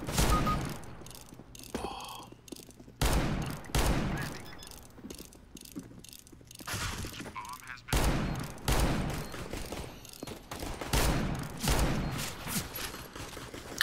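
Revolver fire in the game CS:GO sounds as a string of sharp, loud shots spaced a second or two apart, each with a short decaying tail, over a busy game background.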